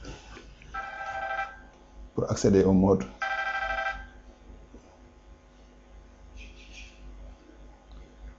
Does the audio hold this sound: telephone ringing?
yes